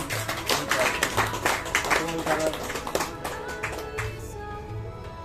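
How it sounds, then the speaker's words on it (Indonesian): An indoor audience gives a round of hand clapping for Pak Adi, the crisp claps uneven and moderately close as a voice talks over them before the clapping thins out. "Tepuk tangan untuk Pak Adi"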